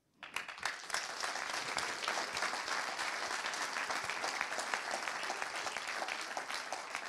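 An audience at a political meeting in Saint-Nazaire breaks into applause: a sudden onset, then a loud, dense, sustained clapping of many hands that continues evenly to the end.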